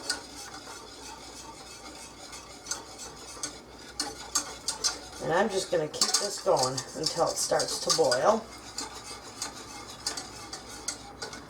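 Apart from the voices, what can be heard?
stirring chocolate cake mixture in a saucepan on the stove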